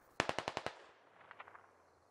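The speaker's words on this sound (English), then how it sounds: "There's a lot of fire coming down on his position." Gunfire from the SquadOps tactical shooter game: a loud, fast burst of about six automatic shots, then fainter distant shots trailing off. No one speaks.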